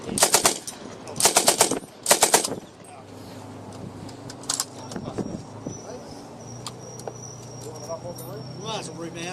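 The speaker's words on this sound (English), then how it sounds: "Test firing! Test firing!" An M60 machine gun fires three rapid bursts up close on a test range at an outdoor event. After the bursts, quieter rustling and faint voices continue.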